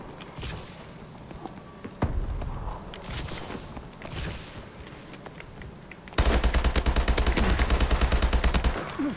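Rapid gunfire from a new weapon in Call of Duty Advanced Warfare, scattered shots and footsteps giving way to a loud, sustained automatic burst in the last few seconds.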